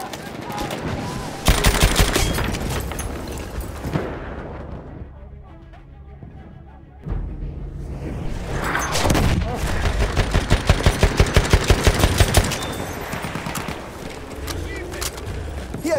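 Sustained machine gun fire from a Chauchat light machine gun in Battlefield 1 during the Battle of the Selle, with loud rapid bursts, a brief lull, then renewed rattling volleys over battlefield noise.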